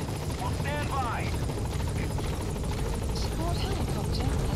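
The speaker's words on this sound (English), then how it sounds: "Support helicopter has arrived." Helicopter in Metal Gear Solid V: The Phantom Pain arrives as a support chopper, its steady rotor drone loud and continuous throughout, with faint game effects and chirps layered on top.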